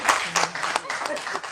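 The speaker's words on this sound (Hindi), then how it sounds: "ताली तो बजा दो यार।" Scattered audience clapping at a Hindi comic satire poetry performance, brief and uneven, mixed with crowd voices.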